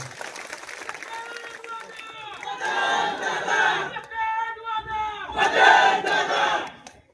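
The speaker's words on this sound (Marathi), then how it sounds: "दोन्ही हात वरती, जोरदार टाळी." A large crowd at a political election rally cheers and shouts in two loud swelling waves after a voice speaks over a loudspeaker, then fades out.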